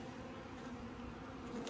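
Wasps buzz in a continuous, faint drone around a honeybee hive on a summer day. The hum holds steady and close, with no voices over it.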